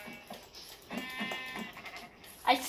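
A video game sheep bleats a few times, soft wavering calls set close and quiet, ending in a sharper louder bleat.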